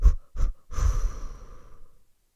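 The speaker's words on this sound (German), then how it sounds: "Wir atmen uns kurz weg." A person breathes deeply: two short, sharp breaths followed by a longer, heavier exhale that fades out after about two seconds, close and alone.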